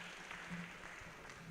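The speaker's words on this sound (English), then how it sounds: "Please give me a round of applause." An audience at a developers bootcamp final day claps together, a dense, steady patter of applause, soft and somewhat distant, with no voices over it.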